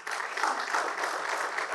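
Audience applause fills a meeting hall during an education ministry preparatory meeting in Nevşehir, a steady, fairly soft wash of many hands clapping that runs evenly throughout, with no talk over it.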